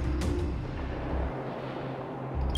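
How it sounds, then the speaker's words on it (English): A Fragmentum monster in Honkai: Star Rail gives off a dense, rumbling wash of static-like white noise with a deep low drone that drops away midway and then returns, steady and fairly loud with no speech. "That noise! Do Fragmentum monsters usually sound like this?"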